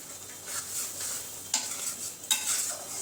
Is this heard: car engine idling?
no